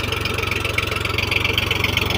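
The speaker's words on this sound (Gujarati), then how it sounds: "તો ટ્રેક્ટર નજીક આવી ગયું છે." A tractor pulls a plain seed drill across a ploughed farm field, its mid-pitched engine droning steadily with a fast rhythmic pulse, close and fairly loud, with no talking.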